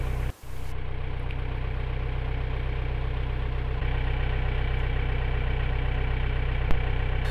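A narrowboat's diesel engine chugs in a steady, even rhythm while cruising the Trent and Mersey Canal, loud and close, with no talk over it.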